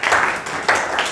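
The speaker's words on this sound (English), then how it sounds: "Please clap hands for her." A few bursts of hand clapping from a class during a maths revision lesson, short and close, rising twice in quick succession with no speech over them.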